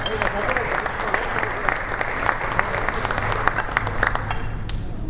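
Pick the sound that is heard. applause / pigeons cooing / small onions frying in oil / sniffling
applause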